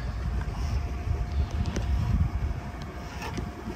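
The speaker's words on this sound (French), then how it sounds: "Et les voiles claquent." Sails on a sailboat flap and snap in light wind while it rolls on a side swell, set against steady wind and water rumble, with a few sharp slaps standing out near the start and end.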